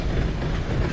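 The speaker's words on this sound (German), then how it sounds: "Wir haben hier schon Züge." A train rumbling past in Red Dead Redemption 2, a loud, close, dense low rolling rumble with rhythmic clattering of wheels, steady throughout one second.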